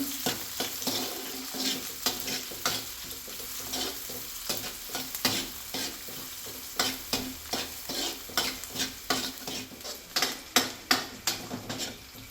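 Ingredients for a bottle gourd buttermilk sambar frying and being stirred in a pan, a steady close sizzle broken by repeated sharp scrapes of a spoon that grow more frequent and pronounced toward the end.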